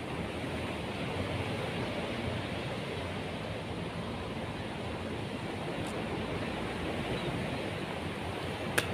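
Surf washes steadily onto a beach shore at Muara Rejo in Batang, a continuous broad rushing roar with wind across the microphone and no talk.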